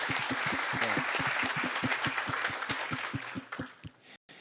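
Applause from an audience at the RealogyFWD 2016 conference, sustained dense clapping with a steady beat that fades out and stops near the end, no talking.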